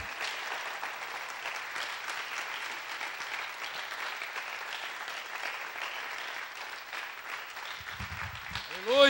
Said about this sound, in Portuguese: Dá um forte aplauso ao Senhor